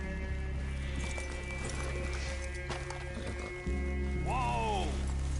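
Horses move in the Red Dead Redemption 2 video game, hooves clopping under a constant low ambient hum and game music, with a horse's whinny near the end.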